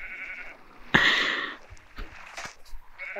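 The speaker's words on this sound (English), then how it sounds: "Come back here, sheep." A sheep lets out a single loud, wavering bleat from nearby, with faint scattered outdoor sounds before and after it.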